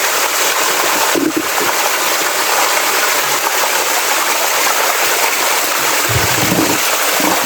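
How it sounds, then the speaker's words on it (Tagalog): Steady rushing of a nearby stream, loud and continuous, with a constant broadband wash. "dito tayo kumukuha ng tubig sa may sapa"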